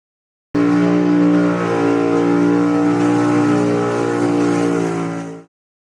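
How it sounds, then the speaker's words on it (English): A NASCAR Cup Series race car holds a loud, sustained burnout, the engine roaring steadily at high revs for about five seconds before cutting off abruptly. "Did Hamlin have the burnout of the year?"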